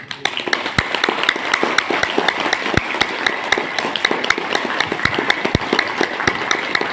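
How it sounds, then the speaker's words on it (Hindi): Applause at a yoga session, a scattered crowd clapping with irregular individual claps standing out, fairly close and steady with no talk. "एक बार अपने लिए ताली बजा लें।"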